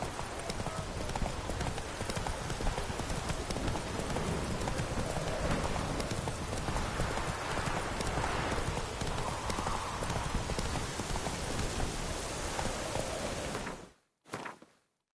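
Roach the horse gallops in The Witcher 3, hooves pounding in a fast continuous rhythm over a dense hiss like rain, loud and close for about fourteen seconds before cutting off abruptly.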